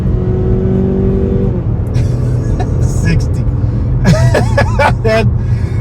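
A 2026 Mazda CX-50 turbocharged small SUV accelerates hard at full throttle, the engine droning steadily under road noise while a driver talks over it.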